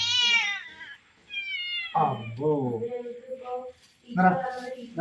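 A cat meows close by: a long, high, drawn-out cry, then a lower wavering meow, and after a short pause another insistent call, each one loud and clear.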